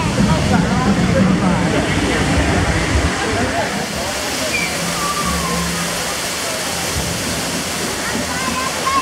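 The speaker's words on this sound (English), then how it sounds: "Oh, and water." Water rushes and splashes steadily at the Tree of Life in Disney's Animal Kingdom, a constant close wash of noise with crowd murmur and voices underneath.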